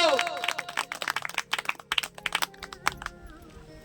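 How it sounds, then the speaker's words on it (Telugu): A church congregation claps their hands in a quick, irregular run of sharp claps, fairly close, mixed with voices. "చప్పట്లు కొడదాం."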